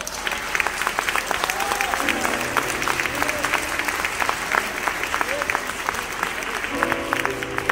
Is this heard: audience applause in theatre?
yes